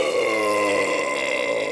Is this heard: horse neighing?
no